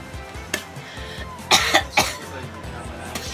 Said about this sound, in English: started coughing up blood